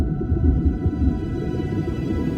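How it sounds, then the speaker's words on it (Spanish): Whales singing in the deep North Atlantic: a steady, dense low rumble with faint tonal moans, continuous and fairly loud throughout, with no voices. "las ballenas cantan en medio del silencio del abismo"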